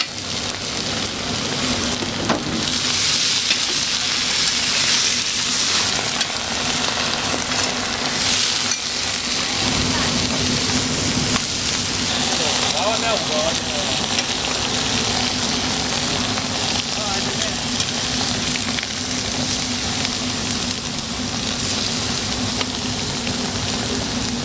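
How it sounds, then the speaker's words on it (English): Crisp greens steaming on a hot griddle beside a delicate lacy pancake at a busy Taiwanese night-market stall, a steady broadband sizzle and hiss with stirring clatter, continuous and fairly loud throughout. "Crisp greens are added, steaming instantly on the hot surface"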